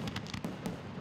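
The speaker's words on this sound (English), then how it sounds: "Fireworks are going off at all times of the day." Fireworks going off in San Diego around the July 4th holiday: a rapid burst of sharp bangs and crackling pops, several in quick succession, fairly close and loud with no talking.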